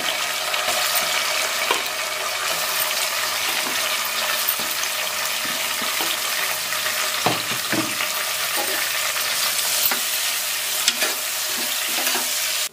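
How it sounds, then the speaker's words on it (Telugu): Curry leaves and onions frying for a mutton masala curry, a loud dense hiss of hot oil running throughout with occasional spoon scrapes and crackles. "కరివేపాకు, ఆనియన్స్ కూడా కలిపి వేసేసుకోండి"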